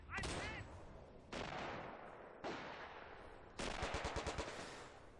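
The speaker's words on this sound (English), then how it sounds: "We have fire! Enemy fire!" Bursts of machine-gun fire from enemy positions in the World War II strategy game Company of Heroes, Blitzkrieg mode: four loud, close rattling volleys of about a second each, separated by brief gaps, with a voice barely audible underneath.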